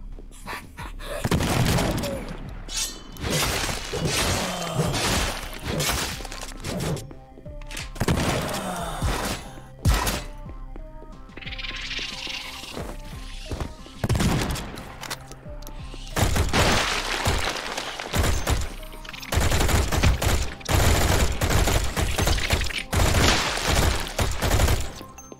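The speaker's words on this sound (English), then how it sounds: "Starting to like the cannon a bit more now that I understand it." Heavy cannon blasts and thudding impacts from the game Project Warlock 2 in ancient ruins, repeated in dense, loud bursts across the clip alongside other game effects and music.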